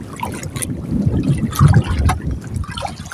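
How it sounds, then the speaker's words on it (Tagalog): Strong northeast monsoon wind at sea, gusting roughly against the microphone with water sloshing around a small boat, loud and close, with no talk. "Lakas na ng amihan"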